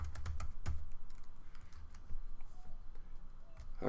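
Close, quick typing on a computer keyboard, a run of sharp separate key clicks in uneven bursts with short pauses and no talking.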